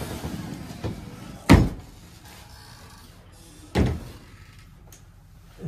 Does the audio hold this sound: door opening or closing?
yes